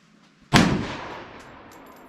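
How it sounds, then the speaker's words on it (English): Bolt of a 1907 Remington Model 8 autoloading rifle in .25 Remington slamming forward on a single loaded round, one sharp loud metallic impact with a short decaying ring afterward. "and then you run the bolt forward"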